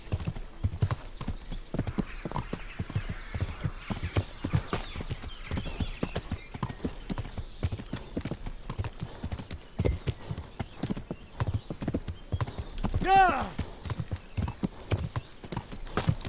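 Horse hooves clip-clop in a steady rapid rhythm through the forest in Kingdom Come: Deliverance, continuous and close, with a brief whinny near the end.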